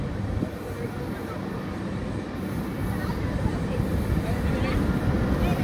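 New LHB passenger coaches on Kerala's first LHB passenger train run through a long tunnel, giving a steady, loud, enveloping rumble that holds evenly from start to finish.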